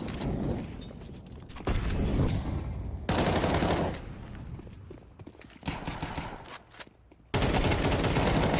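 Bursts of rapid gunfire from a Counter-Strike match, loud clusters of shots broken by short quiet gaps, with metallic weapon handling between volleys.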